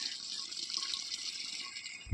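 Water pours steadily from a tap with a continuous rushing hiss, close by and fairly loud, with no one speaking.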